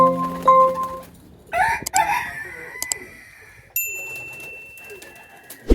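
Pigeons coo at close range in a few separate bursts, with sharp clicks and flutters between them and thin whistly tones near the end.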